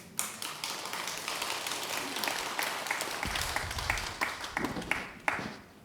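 A Buddhist Sunday dharma assembly at a Seoul temple breaks into faint, scattered applause, soft claps pattering steadily for several seconds at a distance.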